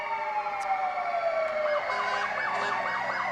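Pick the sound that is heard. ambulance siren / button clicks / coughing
ambulance siren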